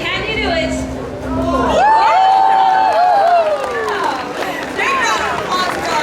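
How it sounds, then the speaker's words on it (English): Outdoor crowd at a bird-of-prey flight show cheering and clapping, a broad wash of mixed voices and whoops with sustained crowd noise rising over about six seconds. "Big round of applause for our trees"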